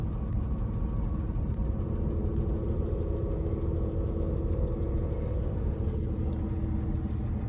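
A Porsche 997 idles steadily after a cold start, a constant close, loud low rumble with no talking.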